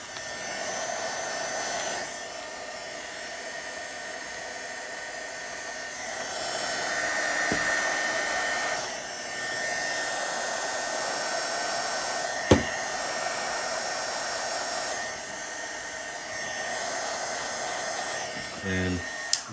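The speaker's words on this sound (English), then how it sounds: "So pull out your heat gun, let it heat up for about 5 seconds." Heat gun blowing over a stack of solder, a steady airy hiss and fan whir that runs continuously and fairly loud, with a couple of small clicks and a brief rattle near the end.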